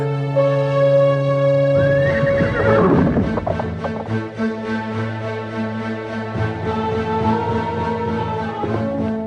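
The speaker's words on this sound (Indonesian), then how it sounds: "Ayo kudaku, larilah dengan cepat." A horse gives a loud, drawn-out neigh partway through, followed by steady galloping hoofbeats that carry on to the end, with no talk over it.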